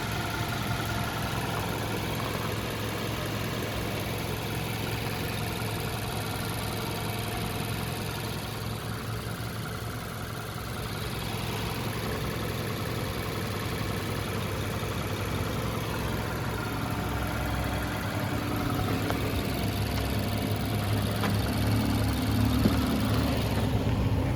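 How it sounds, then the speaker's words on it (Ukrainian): A 2020 Mazda CX-5 with a 2.0 petrol Skyactiv-G engine idles smoothly, a steady low hum heard up close and at moderate volume with no talking. "нас робота двигуна."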